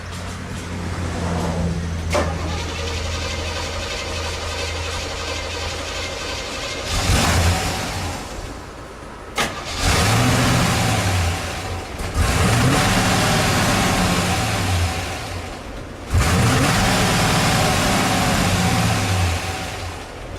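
A car engine with a Holley carburetor struggling to idle, running in a low rough drone broken by several louder revving bursts, close and alone without talk.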